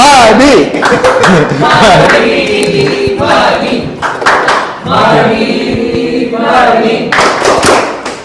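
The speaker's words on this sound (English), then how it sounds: "Thank you so much everyone for that loud cheer and your amazing participation" Audience at a Toastmasters-style club meeting breaks into loud, sustained cheering and clapping, dense hand claps rising and falling in waves with voices mixed through the crowd noise.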